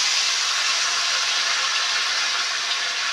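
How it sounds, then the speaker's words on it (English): Cold white wine poured into a hot pan to deglaze it after cooking round steak, hissing and sizzling loudly and evenly without a break, close up with no talk. "we're going to deglaze all this to pull all those bits out"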